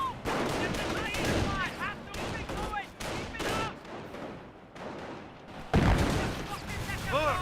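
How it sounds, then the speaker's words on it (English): Mortar shell impacts amid a Company of Heroes battle, a loud burst near the end standing out over continuous crackling gunfire and booms, with voices talking throughout. "Got a mortar hit there"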